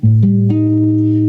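Sustained keyboard-like tones stack into a chord, with a flatted fifth entering partway through, dissonant against the chord, ringing steadily and close.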